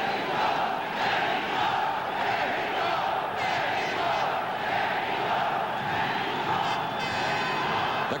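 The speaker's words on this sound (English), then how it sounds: "The crowd chanting Mexico for Jose Napoles." A dense arena crowd roars and chants at a 1971 boxing match between Jose Napoles and Billy Backus. The sound is a continuous wash of massed voices with no breaks.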